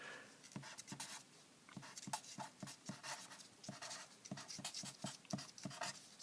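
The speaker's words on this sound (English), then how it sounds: "let me just write that down" A pen writes on paper up close, with scratchy rhythmic strokes and short taps repeating quickly for several seconds, faint and without talk.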